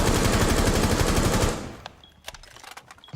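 A gun in the video game Rainbow Six Siege fires a rapid, sustained automatic burst that empties a full magazine and cuts off after about a second and a half, leaving faint clicks and small impact sounds.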